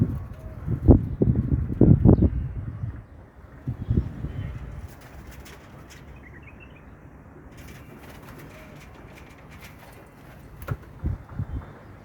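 Pigeons coo in low, throaty bursts near the start and again toward the end, with a faint flutter of wings in between and a quiet background.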